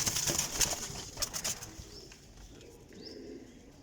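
A young Sialkoti pigeon gives soft, faint coos amid some light rustling and background noise, with no talking over it.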